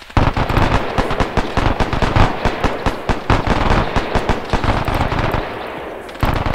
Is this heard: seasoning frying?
no